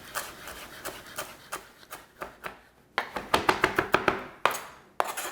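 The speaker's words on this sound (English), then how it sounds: "we also want to dice our cilantro up and mince our cilantro up for the garnish at the end." Fresh cilantro chopped and minced with a knife on a board: rapid, closely spaced taps that speed up into a brisk burst, close and crisp, with no voices.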